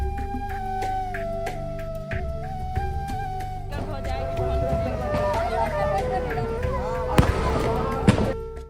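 Firecrackers and fireworks go off during Chhath Puja celebrations in Manechowk, with scattered pops and crackles mixed into lively crowd babble, tonal background sound and a couple of sharper bangs near the end.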